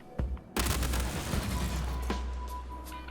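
Quartz Energy SMG firing in Star Citizen, a sustained burst of energy-weapon fire that begins after a short opening shot and runs loud and continuous for about two and a half seconds, fading slightly toward the end.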